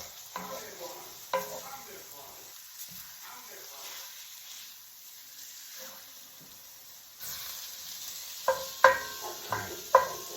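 A seafood gravy is stirred in a pot, with soft scraping and faint sizzle under quiet room noise, then a few sharper clinks of the utensil against the pot near the end.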